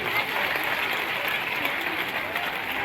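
A crowd claps together at a school annual function, steady dense applause throughout.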